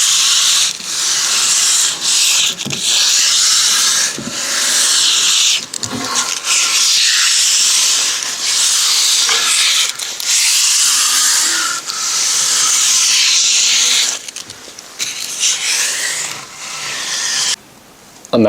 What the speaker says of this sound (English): you guys can just watch me sand